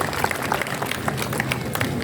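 Crowd applause at a parade event in Velingara, a dense, steady rattle of many hands clapping at once, evenly loud across the whole moment with faint voices mixed in.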